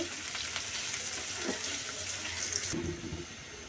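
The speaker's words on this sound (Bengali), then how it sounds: "তেলটা গরম হয়ে গেলে দিয়ে দিব বেশি করে পেঁয়াজ কুচি। কিছুক্ষণ একটু ভেজে নিব।" Chopped onions frying in hot soybean oil, a faint steady sizzle with stirring scrapes and a few clatters, fairly quiet and close, no talking.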